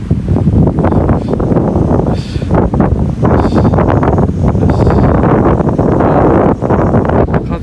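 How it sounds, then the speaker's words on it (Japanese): Strong gusts of wind buffet the microphone on a high suspension bridge on the Kumano Kodo trail in Totsukawa Village, a loud, rough roar that surges and dips unevenly throughout. "風がちょっと出てて"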